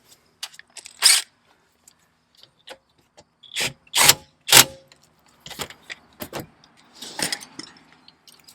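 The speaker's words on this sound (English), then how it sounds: "I'll just gently nip it with the impact gun" An impact gun briefly nips a rear brake caliper bolt on a parking-brake caliper, giving a few short, sharp mechanical bursts spread out between quiet pauses, with light clanks of tools between them.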